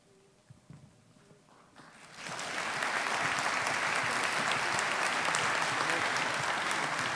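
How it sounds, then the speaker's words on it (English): Audience applause at a community ceremony: after a quiet start with faint scattered claps, a broad, steady wave of clapping swells in around two seconds and holds loud and sustained to the end, with no talking. "big round of applause"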